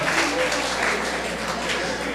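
A church congregation applauds for Evangivaldo in a short, dense burst of many hands clapping together, steady and fairly loud with a faint low hum beneath.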